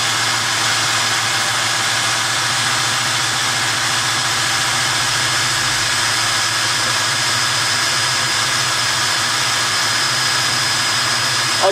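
A Meccano model traction engine drives a warehouse hoist with a steady mechanical whir and hum that stays loud and close throughout, with a thin high whine joining near the end and no voices.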